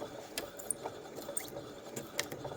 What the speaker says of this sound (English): the machine will sew forwards, then it'll lock by sewing backwards, and then it'll begin to sew away again.